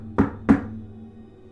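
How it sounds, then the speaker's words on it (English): Two sharp knocks land on a front door about a third of a second apart, close and solid, followed by quiet. "You hear a knock at the front."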